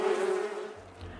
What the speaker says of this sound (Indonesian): Ini adalah suara lebah.